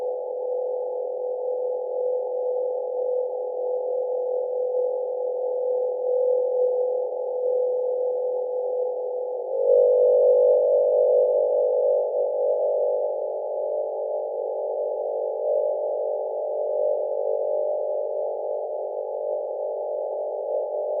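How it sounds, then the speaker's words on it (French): The MOXIE oxygen-making instrument aboard NASA's Perseverance rover, recorded on Mars: a faint, steady mid-range hum with a pure tonal drone that shifts slightly in pitch partway through, continuous and alone. "il s'agit des sons produits par MOXIE, un dispositif spécial installé sur le rover Perseverance."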